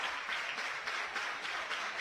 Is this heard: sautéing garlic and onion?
no